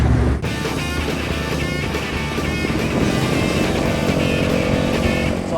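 A custom mini moto motorcycle engine drones steadily while being ridden on a track, loud and close, with a constant buzzing tone that rises and falls slightly throughout and no talk.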